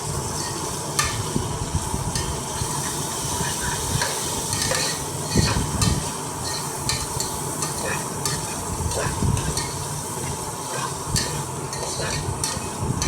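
Chopped mint and coriander leaves sautéing in a hot pan for prawn biryani, a dense continuous sizzle with steady stirring and scraping, close and fairly loud, no speech.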